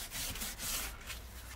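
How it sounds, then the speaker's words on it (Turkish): A sponge sandpaper coated with white soap scrubs a PVC window frame in quick, close rasping strokes, two or three passes in a short burst with no voices. "Beyaz sabunu zımparaya sürterek de bu temizleme işlemini yapabilirsiniz arkadaşlar"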